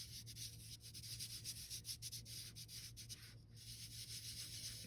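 Colored chalk being rubbed and blended on a pumpkin surface, a continuous dry scratchy rubbing heard close and steady, with a low hum underneath and no voices.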